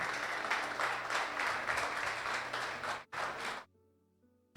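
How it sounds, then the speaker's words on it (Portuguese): A church congregation claps together after a sermon, a full, steady round of applause that breaks briefly, resumes, then drops away to near silence. "Aplauda o Senhor Jesus"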